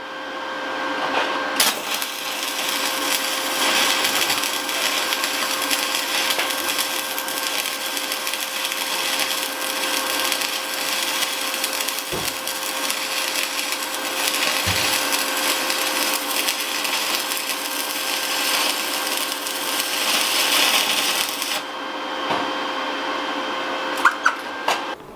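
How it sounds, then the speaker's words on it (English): Stick welding with rolled rods: a steady, loud crackling hiss runs continuously for about twenty seconds, then cuts off, with a few faint clicks around it. "I found some rolled rods, so I did some stick welding."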